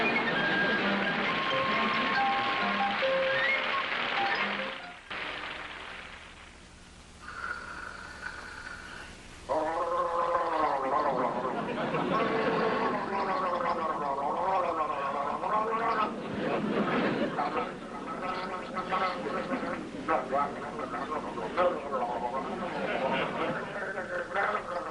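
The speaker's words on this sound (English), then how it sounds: "Any normal person would gargle quietly" A man gargles loudly and theatrically in a 1950s TV sitcom scene, a long warbling, yodel-like gurgle that follows a few seconds of other sound and a brief quieter gap.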